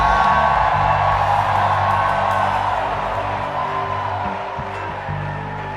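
A church congregation at a plenary worship session shouts and cheers to the Lord, a loud, sustained roar of many voices that slowly tapers off.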